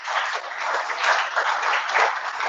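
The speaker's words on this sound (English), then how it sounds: "Can we have a round of applause for Cosette" A room full of attendees at an AWS user group meetup gives the host a steady round of applause, dense and even throughout, with no speech over it.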